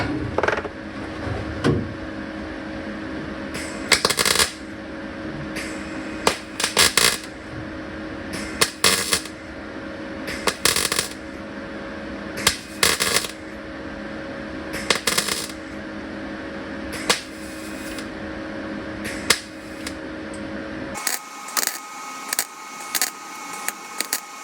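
Short bursts of MIG welding from a YesWelder DP200 filling a patch panel on a 1963 VW, crackling pulses separated by brief pauses over a steady background hum, ending in near silence.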